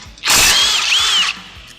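A socket wrench or power tool spinning off a bolt on a GWM Tank 300 rear bar, one loud close burst of about a second, a whirring ratchet with a rising and falling pitch, then quiet.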